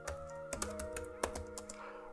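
A command is typed on a computer keyboard as a quick, close run of clacking keystrokes in an uneven rhythm, over a faint steady hum, with no talking.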